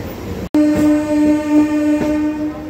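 A passenger train on the Vijayawada–Guntur line sounds a long, loud steady horn at close range, layered over rumbling rail noise, with faint knocks in the background.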